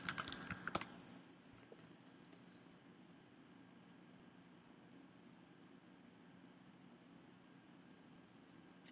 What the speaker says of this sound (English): I'll have to type in my password